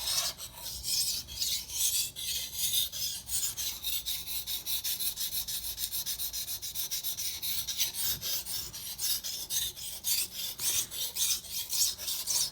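A knife blade is sharpened on a water stone with rhythmic back-and-forth scraping strokes, a steady close rasping hiss repeated many times, with no talking.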